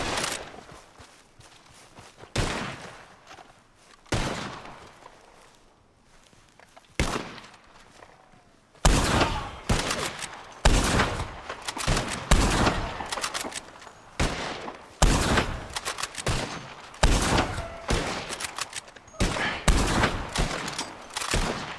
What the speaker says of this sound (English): All we're doing is just throwing bullets at one another.